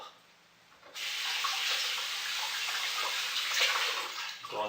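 A veal tongue is rinsed under a running kitchen tap: the water starts abruptly and then gushes and splashes in a steady, close stream for several seconds.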